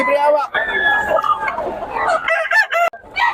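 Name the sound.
rooster crowing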